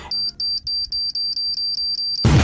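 A kitchen timer beeps in a rapid, even series of about eleven high, piercing electronic pulses, then cuts off into a burst of broadband noise.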